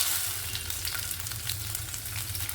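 Big pieces of tomato sizzle steadily in a hot frying pan for Bengali kudri makhani bata, a dense continuous hiss of frying oil with no voices.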